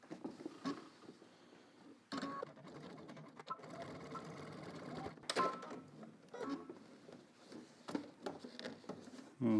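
A sewing machine stitches denim in irregular bursts of whirring and patter, quiet and close, with short pauses between runs and some handling noise.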